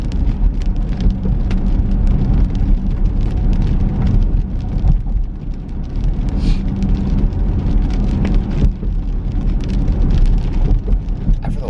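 Steady rain falls outdoors, a dense and fairly loud patter of drops hitting surfaces that runs without a break and carries no voices.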